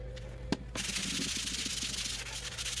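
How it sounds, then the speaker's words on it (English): Wooden drawers being sanded, with a steady close rasping scrape running continuously after a brief knock near the start. "And then when that dries, I give it a quick sand."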